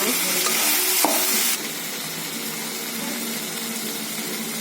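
Sabudana khichdi sizzles steadily in a pan, a loud continuous frying hiss with a brighter, louder stretch over the first second and a half before settling, and no voices.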